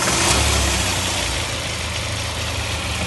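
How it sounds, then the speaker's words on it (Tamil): A Hyundai Venue SX diesel car engine starts and runs at a steady idle, a continuous low rumble with a slight surge at the start, fairly close and loud throughout. "இப்போ இன்ஜின் ஸ்டார்ட் பண்ணுறேன் பாருங்கள்"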